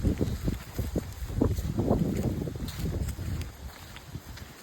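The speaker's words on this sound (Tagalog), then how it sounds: "Napakalakas ng hangin mga idol." Strong gusts of wind buffet the microphone in uneven bursts, rumbling loudly and continuously with no talking.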